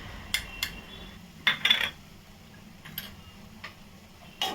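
Palak paneer masala being stirred and sautéed in a pan, heard as sparse metallic clinks of a spoon against the pan over a low background hum, with a brief cluster of scraping in the middle.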